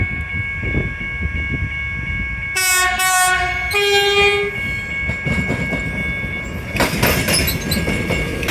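An Extrapolis commuter train rumbles past loudly and sounds its horn in two blasts, the second one longer, followed by clattering wheels and rushing noise as the train passes close by.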